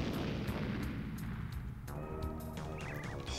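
Bombette's bomb blasting through a weak wall in the Nintendo 64 game Paper Mario: a heavy booming explosion with a rumbling tail, followed by brighter chiming game effects.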